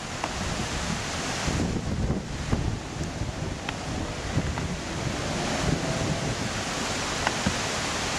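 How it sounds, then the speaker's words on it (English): Strong wind over a lake buffets the microphone in a steady roar with gusty rumbling, water faintly lapping beneath it, and no voices. "It's windy."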